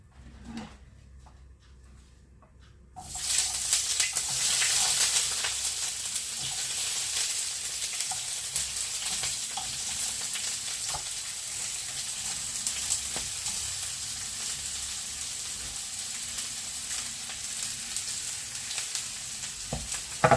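After a quiet start, a loud steady sizzle of onions frying in hot oil fills the rest, crackling and hissing close by with occasional stirring.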